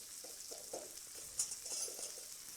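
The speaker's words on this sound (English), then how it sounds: "you take your egg yolk, and you take a very small amount of your cream, add it into the egg yolk, and stir" A spoon stirs egg yolk mixed with a small splash of cream in a bowl, making soft, quiet wet clicks and scrapes in an irregular rhythm, with no voices.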